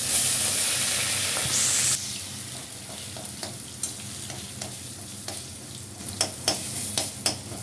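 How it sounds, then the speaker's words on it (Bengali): Soaked lentil dumplings (bori) fry in a wok with panch phoron and chilli, giving a steady close sizzle that drops slightly after two seconds, broken by repeated clinks and scrapes of stirring. "বড়িগুলো ভালো করে ভাজাবো।"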